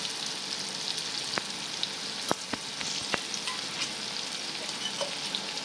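Garlic chutney sizzles and fries in a hot pan, a steady crackling hiss with a few sharp pops and stirring clicks, close and alone.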